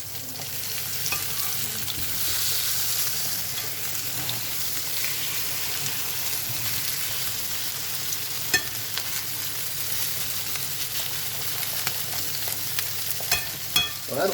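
Grated potato rösti cakes fry steadily in a hot pan, a dense continuous sizzle and crackle with occasional sharper pops and stirring scrapes, close and loud throughout.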